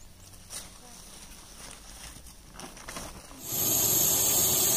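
A large female Russell's viper in a well lets out a loud, sustained hiss, sharp and bursting like a pressure cooker whistle, after quieter breathy hissing and someone talking.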